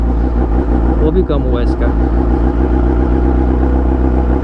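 A heavy motorcycle engine runs at a steady idle with a strong low rumble, close and loud, while someone talks over it.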